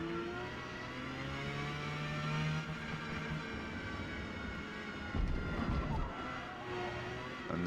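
A Porsche 911 GT3 races around Mugello in Forza Motorsport, its engine a sustained, tonal whine that holds steady and then turns rougher and louder for a brief burst near the end.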